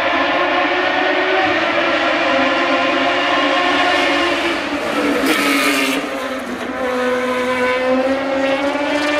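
A Formula Radical race car passes on the circuit in Abu Dhabi, its loud, high engine whine holding steady, then a brief dip and pitch drop as it goes by, with no voices over it.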